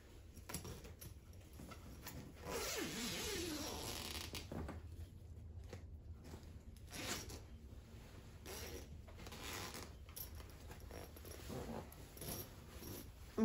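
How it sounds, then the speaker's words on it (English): Quiet rustling of fabric with a few soft zipper pulls, close and faint, like a sleeping bag being shifted and zipped shut. "Zip myself up."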